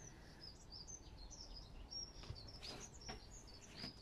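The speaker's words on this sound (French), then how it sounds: "Bonjour mes petits oiseaux." Small birds chirp outdoors in a garden, a steady scatter of high tweets and calls at moderate distance over a soft background hiss.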